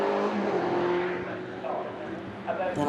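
A race car in the Dunlop Tuscan Challenge passes on the Oulton Park circuit, its engine a steady, fairly loud drone under continuous commentary.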